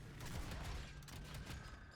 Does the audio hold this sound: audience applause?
no